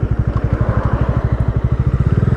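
Bajaj Dominar 400 motorcycle engine pulling in first gear, a loud, close, steady rhythmic thump of rapid firing pulses that quickens slightly toward the end.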